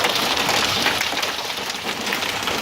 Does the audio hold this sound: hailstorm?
yes